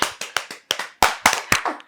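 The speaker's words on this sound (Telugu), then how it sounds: "Wow, claps claps." Hands clapping in a quick burst of about eight sharp, close claps within two seconds, with no voices.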